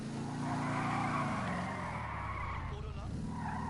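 Tires of a four-wheel-drive car in GTA Online squeal steadily as it skids hard around a corner, loud and sustained over the engine's drone, with a voice faintly underneath.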